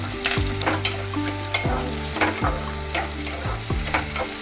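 Sliced onions, green chilies and curry leaves fry in a pan for a banana fry and moong dal rasam meal, sizzling steadily while a spoon scrapes and clatters against the pan in irregular strokes.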